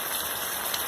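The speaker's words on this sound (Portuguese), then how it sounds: "Eu acho que vai passar o dia inteiro chovendo." Steady rain falls on potted plants in Recife, a dense, even hiss without pauses over a short stretch.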